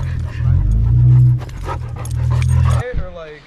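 A big dog at a campsite in the Monongahela area of West Virginia makes low vocal sounds, close by and loud, over a voice that speaks throughout.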